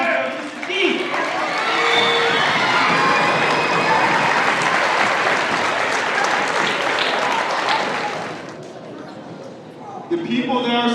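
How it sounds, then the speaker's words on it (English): A crowd claps steadily for several seconds with some cheering at an elementary school speaker event, then the applause fades out and a voice resumes. "But let's give a round of applause for Mr. Steve."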